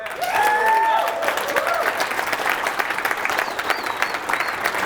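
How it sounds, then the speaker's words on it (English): A seminar audience applauds steadily in a room, dense clapping from many hands with a few whoops rising early on, sustained for about five seconds. "Give yourselves a round of applause."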